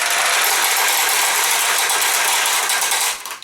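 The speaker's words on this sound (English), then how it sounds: "you usually just push this lever over to the left" Steel pachinko balls from a Nishijin B machine clatter and rattle steadily into the receiving tray after the release lever is pushed, a dense metallic rolling that runs close and loud for about three seconds before tapering off.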